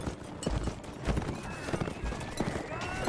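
A horse's hooves clop in uneven beats in the video game Mount & Blade, mixed with thuds and battle clatter at moderate distance, and a faint neigh rises briefly.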